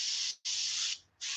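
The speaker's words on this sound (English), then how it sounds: "this stuff doesn't like spraying very" An airbrush sprays paint onto a fishing lure in a trout pattern, giving three steady bursts of close, bright hiss separated by short pauses.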